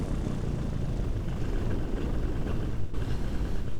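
A paramotor engine runs at low revs, settling toward idle after a flight on a grass field: a steady, close, rough mechanical drone with no voices over it.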